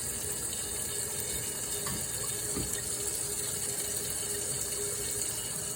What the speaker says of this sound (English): you put it in the sink and you run real hot water over the bottom of the pot